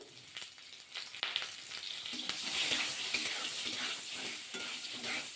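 Potato sticks salted and tossed with turmeric fry in mustard oil for a cauliflower curry, giving a continuous, moderately quiet sizzle with occasional stirring clicks, close up, with no speech.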